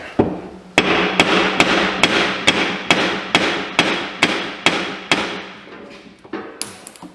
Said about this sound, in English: Just get a dead blow hammer.